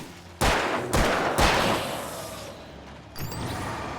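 A shotgun in Alan Wake Remastered fires three sharp, booming blasts about half a second apart, each ringing out briefly, then a fainter fourth shot follows after a pause.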